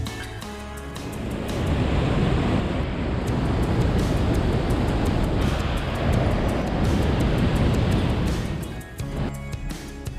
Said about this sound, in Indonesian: Ternyata suara jeram di Sungai Cobanjidor ini lumayan bergemuruh